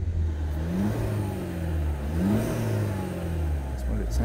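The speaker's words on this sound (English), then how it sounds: "That's what it sounds like when you rev" A BMW 116i's engine revs up a couple of times from near idle, the pitch rising and falling in smooth sweeps, fairly quiet and close, with no talk.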